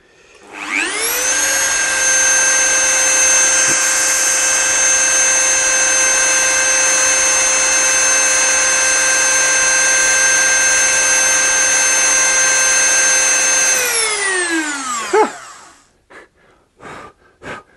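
Dremel rotary tool spinning steadily at high speed for about fourteen seconds with a bright whine and harmonics, working on a guitar headstock inlay, then winding down, followed by a few faint knocks.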